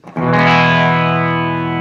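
A single electric guitar chord rings out through an Ibanez PT-5 multi-effects unit on a clean setting, struck sharply and then sustaining with rich, slightly chorused harmonics as it slowly decays, loud and close.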